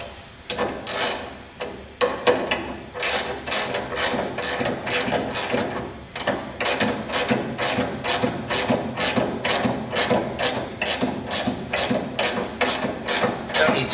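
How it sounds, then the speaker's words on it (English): A socket ratchet tightens special-thread nuts, giving rapid, evenly spaced clicking bursts that repeat nearly twenty times at close range, with a short pause near the start. "I'm just going to nip that up slightly. And then that's the socket."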